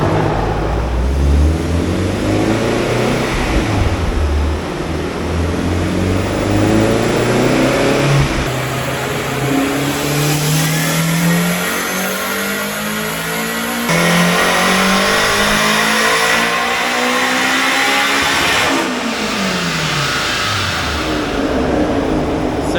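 A turbocharged stock Honda K20 engine on a dyno run roars loudly and close, its pitch sweeping up through repeated long pulls with drops at each shift, and no talk over it.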